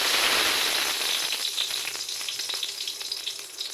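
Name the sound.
dried red chillies sizzling in hot oil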